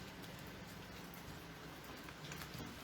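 Steady rain falls outside a shelter in the woods of McKean County, Pennsylvania, a continuous dense hiss of drops with scattered patters, quiet and unbroken, with no talking.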